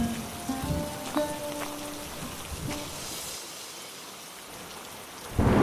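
Heavy rain and thunder in a Bengali fairy-tale cartoon set in the rainy season: a steady, dense hiss of downpour with low thunder rumbles early on, easing off before a loud close burst at the end.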